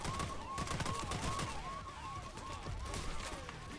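Rapid automatic gunfire from shooting enemies in PAYDAY 3, a steady stream of sharp shots with game effects in the background, fairly quiet overall.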